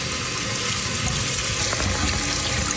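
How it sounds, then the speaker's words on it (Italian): Running water from a kitchen tap pours steadily over 100 grams of quinoa being rinsed, a continuous close hiss and splash with no talk. "Prendo 100 grammi di quinoa e vado a sciacquarla."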